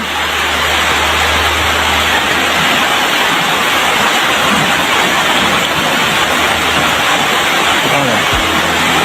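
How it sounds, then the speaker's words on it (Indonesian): Heavy rain pours down outdoors as a loud, steady broadband hiss that fills the whole stretch without a break, with a low rumble underneath. "Hujan, bro."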